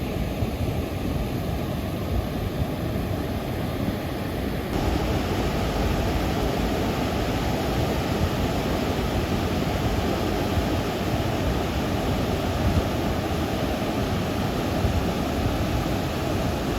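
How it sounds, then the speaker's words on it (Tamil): Water rushes in a continuous loud roar through the fifteen opened spillway sluice gates of Iranaimadu reservoir, a dense broadband torrent that is steady and unbroken throughout. "பாருங்க எப்படி தண்ணி போகுது."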